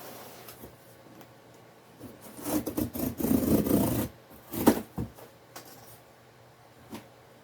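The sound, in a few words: cutting open a cardboard shipping box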